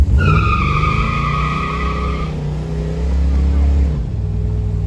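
Old garage-kept car out on a drive, its engine revving and rising in pitch as it accelerates, then easing and building again, loud and close with people talking over it.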